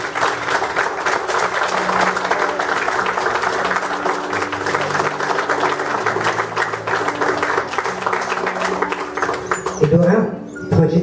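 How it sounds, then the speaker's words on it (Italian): Guests applaud after the couple are declared united in a symbolic wedding ceremony at a grand hotel, a steady wash of clapping across the whole stretch with music or voices underneath, thinning near the end. "Un applauso per favore."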